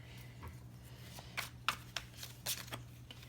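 Tarot cards being shuffled for a reading produce soft riffling bursts and a few sharp slaps of card against card, close and quiet over a faint steady hum.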